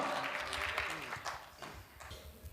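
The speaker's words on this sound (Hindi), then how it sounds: "एक बार दोनों हाथ उठाएं, तालियों में तब्दील करें, जोरदार तालियां" Audience applause for a comedian performing at a Hindi poetry and comedy show, a broad wash of clapping that starts loud and slowly thins, with a voice faintly audible underneath.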